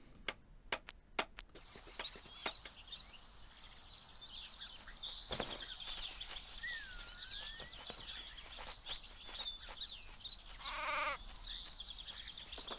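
Sheep bleating in the video game Craft The World: a short bleat rises over a bed of game ambience with chirpy bird calls and a few sharp clicks, moderately loud and without speech.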